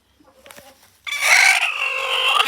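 A chicken squawks loudly and continuously for over a second, close by, after a brief stretch of faint scuffling.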